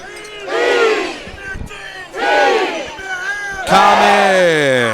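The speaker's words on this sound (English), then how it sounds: "So listen to the crowd." A high school football championship crowd chants and roars in rhythmic bursts before a kickoff, three loud waves of massed voices, close and energetic.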